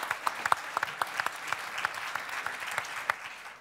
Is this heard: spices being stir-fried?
no